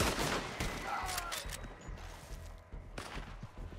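Gunshots in Red Dead Online, a loose volley of sharp cracks and thuds at mid distance, fairly faint and scattered over a busy outdoor game background.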